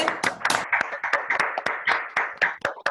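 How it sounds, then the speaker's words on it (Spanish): Sparse handclaps from a small audience after a history talk about the Teatro Municipal Rodolfo Funke, a dozen or so distinct, close claps in an uneven rhythm rather than a full wash of applause. "quiero que aplaudamos a Marian y agradecerle enormemente"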